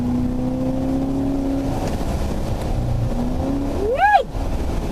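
A 2015 Chevrolet Corvette engine drones steadily from the cabin on a winding road, then revs up sharply in a rising whine as it accelerates near the end, loud and close.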